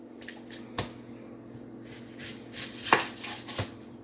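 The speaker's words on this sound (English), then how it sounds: "I'm going to show you guys how I chop onions." A knife chops onions on a board with scattered, irregular sharp knocks, a few louder strikes near the end, fairly quiet with light kitchen clatter.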